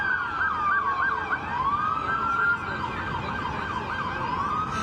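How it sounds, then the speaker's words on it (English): Police patrol car sirens wail and sweep up and down as the cars pass through a tense Los Angeles street scene, loud and continuous over a rumble of traffic. "Okay, here come the patrol cars."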